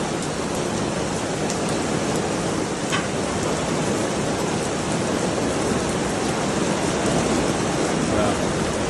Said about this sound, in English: Imagine that you're out in that pouring rain